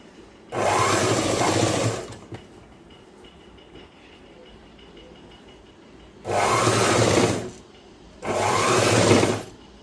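Sewing machine stitching a boys' school uniform shirt, running in three loud steady bursts of whirring with quiet pauses between, no talk.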